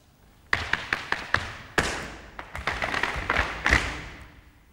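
Close, loud Irish dance footwork on a hard floor: quick shuffle-hop taps followed by a heavy foot bang, then more rapid taps and thuds in an uneven rhythm, with no voices.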